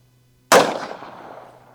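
A single handgun shot cracks out loud and close after a quiet moment, its sharp report followed by a decaying echo.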